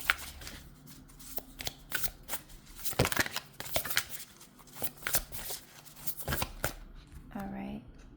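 Oracle cards are shuffled in close, quiet bursts of riffling and slapping that come and go in an uneven rhythm, with a short voice near the end.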